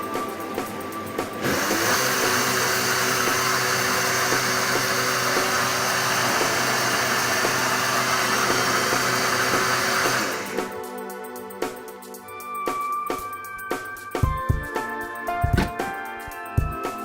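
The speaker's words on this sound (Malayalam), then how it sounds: "ഇനി ഞാനിതൊന്ന് അടിച്ചെടുത്തിട്ട് വരാം" A blender whirs loudly and steadily for about nine seconds while mixing a virgin piña colada, then cuts off, leaving scattered clinks and light kitchen clatter.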